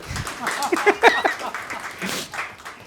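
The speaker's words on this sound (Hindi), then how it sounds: "ताली बजानी तो खुल के बजा दी" Applause from an audience at a Hindi book launch and discussion, a broad wash of clapping with a few sharper claps standing out, fairly close and steady for a few seconds.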